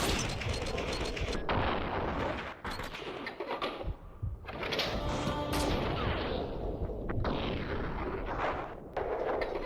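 Gunfire from the video game Max Payne 2, played on Dead on Arrival difficulty, comes as repeated loud shots and bursts with busy game effects, filling most of the stretch without any talk.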